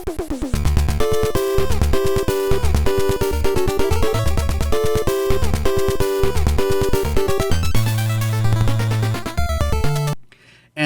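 Castlevania III's American NES soundtrack, stock sound chip without extra channels: busy 8-bit chiptune melody with square-wave leads and pulsing bass, loud and steady, cutting off abruptly near the end.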